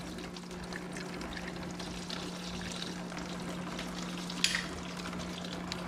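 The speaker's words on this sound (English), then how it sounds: "it's just shooting out that distilled water. And it's still got some green coolant coming out." Distilled water gushes out of the radiator of a 2002-2004 Honda VTX 1800 motorcycle during a coolant flush, producing a steady, hissing spray with a brief splash midway and no voices.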